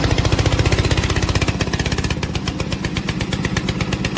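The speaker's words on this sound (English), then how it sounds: "Press this button to start the engine." Engine of a VTC550-90 remote-controlled lawn mower on rubber tracks starting by push button and running, a loud, steady rapid chugging throb that holds its fast pulsing rhythm close to the microphone.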